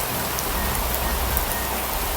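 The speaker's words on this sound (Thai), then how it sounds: "คือฝนมันตกไง" Steady rain pours down in the mobile game Ark Mobile, a dense, even hiss of falling drops that fills the scene without pause, with no talking over it.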